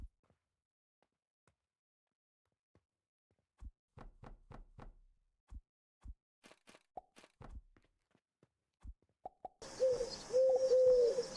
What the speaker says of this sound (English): Damn it, the pigeon noises.